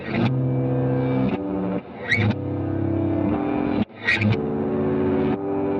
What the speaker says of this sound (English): Let's go to backward tape. Let's see what that sounds like.